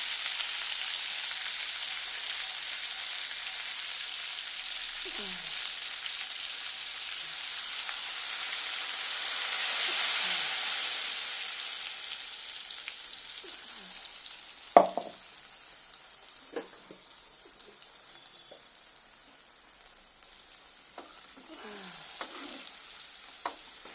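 Mustard seeds sizzling and crackling in hot oil while tempering red chutney, a steady close hiss with a few sharp pops and scraping stirs, swelling briefly midway then settling.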